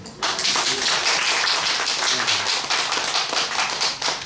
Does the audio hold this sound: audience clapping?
yes